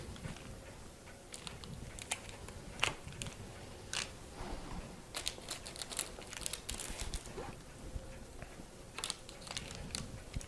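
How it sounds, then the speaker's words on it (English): A pizza wheel scores sheets of sourdough cracker dough into small squares, giving a close, quiet series of irregular crisp clicks and rolling crackles over a soft background. "a pizza wheel really works the easiest to do this"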